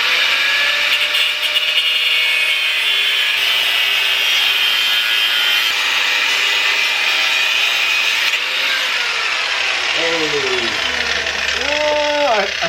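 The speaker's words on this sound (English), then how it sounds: "Get the grinder. Yep, that's gonna have to get grinded off." An angle grinder cuts off a nut on a downpipe being fitted to a PT GT, a continuous loud high grinding whine that holds steady, with talk and short tonal sounds near the end.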